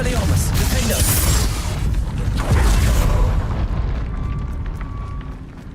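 An Expelliarmus spell cast in the video game Hogwarts Legacy: a loud booming magical blast with crackling bursts that rumbles for a few seconds and then fades into quieter ambience.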